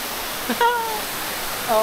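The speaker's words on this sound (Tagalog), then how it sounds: "malakas na yung agos ng tubig" Strong current of clear, deep flowing water at Puerto Princesa, Palawan, rushing in a steady loud wash throughout, with brief voice-like tones breaking through near the start and end.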